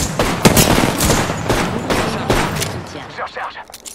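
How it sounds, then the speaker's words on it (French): Gunfire in the Apex Legends video game on PS4: several loud bursts of rapid shots crack in quick succession, then thinner scattered shots taper off toward the end. "Je me fais tirer dessus."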